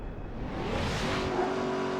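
Cars in Midnight Club 3 DUB Edition on PS2 rushing past with a rising engine roar and a sustained whine, loud and close throughout.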